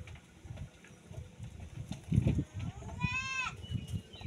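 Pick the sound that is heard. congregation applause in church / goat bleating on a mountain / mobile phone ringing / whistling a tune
goat bleating on a mountain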